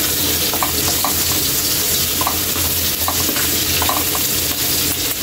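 Onion and garlic sizzle loudly and steadily in a hot pan while being sautéed, the frying hiss constant and close with faint stirring scrapes, no talking.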